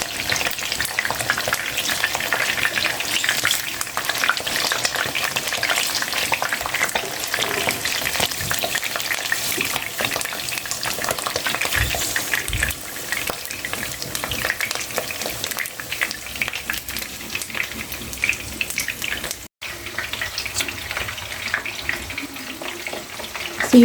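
Oil sizzles and spatters steadily in a pan while frying for a simple breakfast. Crackling pops continue near and fairly loud for the whole stretch, with a brief dropout near the end.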